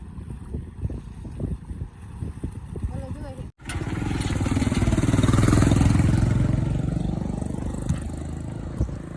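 A tractor engine on a rural road swells into a steady, loud drone as it draws near and passes, then slowly fades; someone talks briefly before it arrives.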